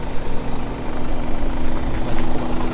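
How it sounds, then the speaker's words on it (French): An Audi A4 with air suspension idles while its air compressor runs to raise the car, a loud, steady mechanical drone and hum with a constant pitched whine underneath. "Donc là comme on entend, c'est le bruit du compresseur."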